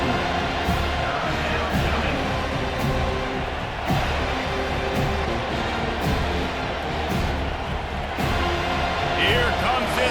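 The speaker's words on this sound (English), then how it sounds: "Here comes this home crowd as the defense tries to get off the field on third down." A home crowd at a Boston College versus Florida State college football game roars and cheers continuously, loud and dense, while a commentator talks over the noise.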